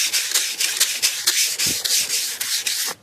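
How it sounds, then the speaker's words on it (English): Hand sanding scrapes across the body of a 1988 Cadillac DeVille in quick, rhythmic back-and-forth strokes, loud and close, about a dozen rasping passes before it stops abruptly. "That's why I recommend sanding with your hand"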